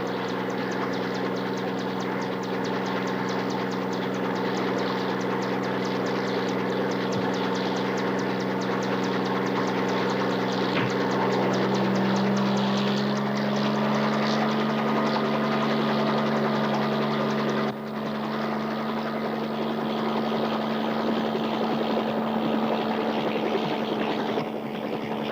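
A helicopter engine and rotor drone on loud and steady for the whole stretch, a continuous mechanical hum with no voices, from a 1979 action television episode.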